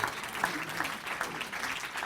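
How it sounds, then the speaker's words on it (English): An audience gives a warm round of applause for a speaker's wife at a Speak Up event, a dense, steady patter of clapping across a short stretch. "how about a nice warm round of applause for my very brave"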